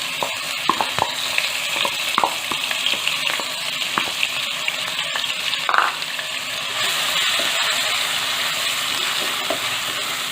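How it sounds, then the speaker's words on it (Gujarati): Ground onion paste sautés in a pan with peppercorns and cloves, producing a continuous loud sizzle and hiss broken by scattered scrapes and clinks from stirring, heard close up without speech. "સરસ મિક્સ કરીને 1 મિનિટ માટે આપણે ડુંગળીને સાતળવાની છે"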